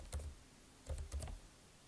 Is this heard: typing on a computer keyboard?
yes